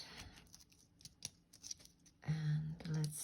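Scissors snip through thread after two knots are tied in a beaded bulb repair, giving a few short, close cuts over quiet handling noise.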